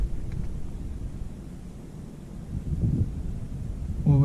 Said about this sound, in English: There's the wind again.